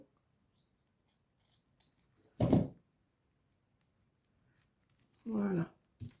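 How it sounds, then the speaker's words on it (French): Scissors cut through a small piece of photo paper in two short, close snips separated by a quiet pause, with faint rustling in between. "On va couper un petit bout."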